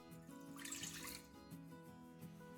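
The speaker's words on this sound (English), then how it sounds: "Then pour it into a clean saucepan" Lemon juice is poured into a clean saucepan, a faint, brief liquid splash and trickle over quiet, steady background music.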